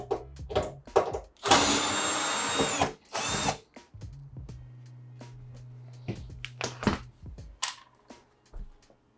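A power screwdriver whirs in two short loud bursts while backing screws out of a Samsung washing machine panel, surrounded by clicks, clatter and handling noises of the repair.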